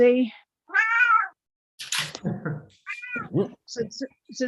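A pet cat meows twice, clear and fairly close, in drawn-out harmonic cries, before a person starts talking over the end of the second call.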